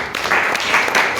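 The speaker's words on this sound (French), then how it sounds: "est-ce qu'on peut applaudir très fort pour notre" Applause from a French audience at the opening of a writing workshop, welcoming the writer in residence; a steady wash of clapping fills the moment, fairly close and even.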